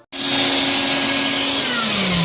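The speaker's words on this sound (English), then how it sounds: "Now we're going to vacuum it all. Vacuum all dust" A vacuum cleaner runs continuously, loud and close, sucking up sanding dust from painted kitchen cabinets, its steady whine starting abruptly and dipping slightly in pitch near the end.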